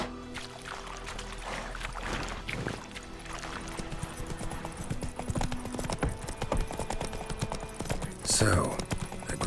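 Roach, Geralt's horse in The Witcher 3, gallops in a quick, steady clip-clop of hooves close by, set over ambient game sound, with a sharp burst near the end.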